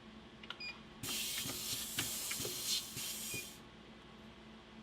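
A pad printer powered by compressed air prints a one-color design on a face mask: a sudden loud hiss of air lasting a few seconds, punctuated by rhythmic mechanical thumps, then abruptly cutting off to quiet.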